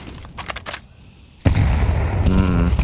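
M4 rifle fire in a Counter-Strike 2 match on Inferno: a burst of sharp cracking shots, then a loud blast and dense rapid gunfire that carries on to the end, with no talk over it.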